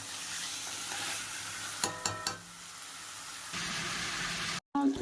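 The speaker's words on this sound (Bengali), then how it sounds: "আমি চিকেনটাকে সেইভাবে এখন পর্যন্ত কষিয়েই যাচ্ছি যতক্ষণ না এটা সিদ্ধ হচ্ছে" Chicken coated in salt, turmeric, Kashmiri chilli powder and sour yogurt sizzles steadily in a pan, with a few sharp scraping stirs partway through and a brief break near the end.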